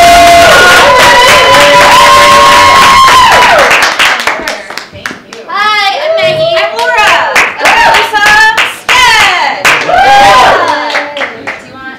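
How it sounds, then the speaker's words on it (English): Audience applause at a birthday party; a crowd claps loudly and continuously in the first few seconds, then excited voices, children's shouts and scattered claps continue close by. "big round of applause for Meggie and Laura!"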